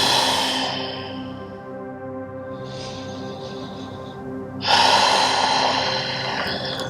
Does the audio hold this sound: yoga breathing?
yes